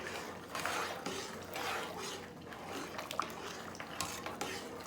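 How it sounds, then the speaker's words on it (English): A spoon stirring macaroni in a pot of boiling water, with soft scraping and clinks against the metal over a bubbling, watery background, close and moderately quiet. "we are going to stir our macaroni so they won't stick to our pan."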